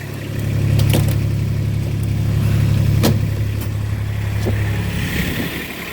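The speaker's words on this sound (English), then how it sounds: "We put it in four-wheel drive." Vehicle engine running steadily in four-wheel drive on rough ground at a rural homestead, a loud continuous low rumble that swells and eases with a few sharp knocks and clunks over the top.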